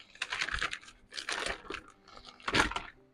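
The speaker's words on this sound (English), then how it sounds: "And I'm going to cut that seal out because it's very thick." Paper scissors cutting through thick heat-sealed plastic, three crisp crinkling snips in an uneven rhythm, close and quiet with no talking.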